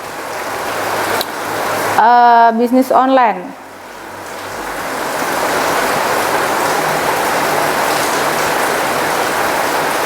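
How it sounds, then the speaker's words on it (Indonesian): Steady rain falling outdoors, a continuous broadband hiss that fills the background for the whole stretch; a voice speaks briefly near the start over it. "Ini kebetulan di luar lagi hujan ya"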